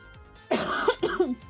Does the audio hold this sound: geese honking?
no